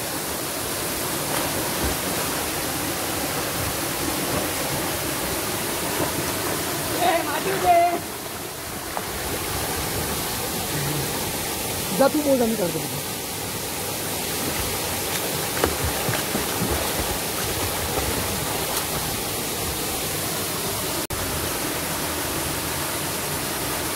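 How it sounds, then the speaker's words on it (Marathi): Water crashing down from above at a hidden waterfall near a cave in the Konkan countryside, a steady broadband roar filling the whole clip while people talk and call out over it. "कसा वरून धबधबा पडतोय"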